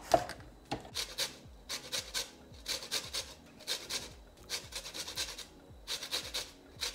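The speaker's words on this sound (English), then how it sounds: "Use the normal grater because I don't mind it being a little bit thicker than the zest." Unwaxed lemons being zested on an ordinary box grater, a steady run of rhythmic rasping strokes, close and fairly quiet, with no talking.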